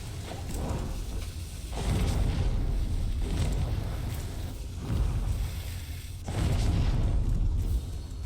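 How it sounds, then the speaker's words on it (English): Fireworks boom in repeated deep bursts in the survival video game Raft, several loud blasts rolling over a steady windy, watery background with no talk. "Enjoy the fireworks!"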